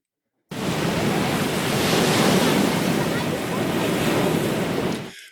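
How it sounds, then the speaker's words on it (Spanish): An ocean ambience from the Opal program, waves and surf with people's voices: a broad, steady wash of breaking water and windy roar starting suddenly, loud and continuous, with no distinct voices standing out. "océano con voces de personas,"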